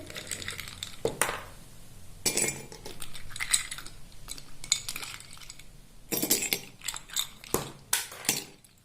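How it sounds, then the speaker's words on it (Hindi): Ice cubes drop into a glass one after another while serving aam panna, giving a series of sharp, close clinks and rattles spaced through the stretch. "तो सबसे पहले हम इसमें आइस क्यूब्स डालेंगे।"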